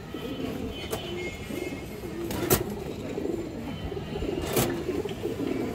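A female Giribaj pigeon coos softly and repeatedly at close range in a low, rolling rhythm, broken by a few sharp clicks and knocks nearby.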